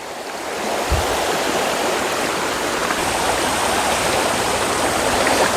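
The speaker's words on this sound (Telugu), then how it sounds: "చాలా స్పీడ్గా వస్తుంది వాటర్ కూడా అంటే గుట్టల నుంచి వచ్చే వాటర్" A fast-flowing forest stream pours down from the hills near Karre Guttalu by the Bijapur forests, making a loud, steady, close rushing roar that holds constant throughout.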